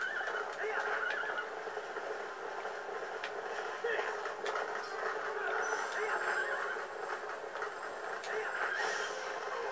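A horse in the video game The Legend of Zelda: Twilight Princess neighs loudly in a sustained whinny over a dense bed of steady game noise and music.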